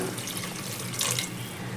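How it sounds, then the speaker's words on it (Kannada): Water pours steadily into a cooking pot for dal khichdi, a continuous splashing rush that swells briefly midway, close and alone. "ಸ್ವಲ್ಪ ಇದಕ್ಕೆ ನೀರು ಸೇರಿಸ್ಕೊಳ್ತಾ ಇದ್ದೀನಿ"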